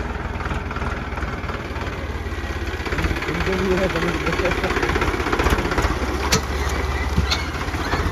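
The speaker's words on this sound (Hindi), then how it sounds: "देखिए सर, ट्रैक्टर इस अंदाज में चल रहा है।" A tractor engine runs steadily with a constant, pulsing low chug on a badly potholed, deep-rutted road in a town ward, loud and close, while people talk over it.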